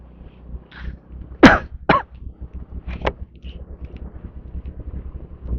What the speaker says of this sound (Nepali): खोकी पो लाग्न थाल्यो त यार